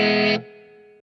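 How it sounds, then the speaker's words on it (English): A loud distorted guitar chord cuts off, leaving a faint reverb tail ringing and fading for about half a second before sudden silence. "You hear that reverb dying off?"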